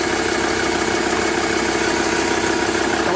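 A Ford Ranger's 3.2L TDi diesel engine idles up close under an open hood: a loud, steady, even drone with a fine rapid pulse, unbroken and with no talking.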